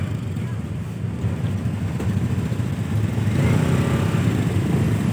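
Motorcycles pass along a busy street at a village carnival with large sound systems, a continuous rough engine drone with wind buffeting that swells louder toward the end.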